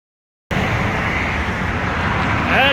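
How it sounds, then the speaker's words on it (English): A Chevrolet car left running after a crash, with a steady, fairly loud engine and road rumble that holds evenly for over two seconds after a brief silence. "That is why I drive a Chevrolet. Still running, still driving."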